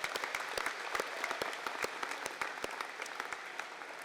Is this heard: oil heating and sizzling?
no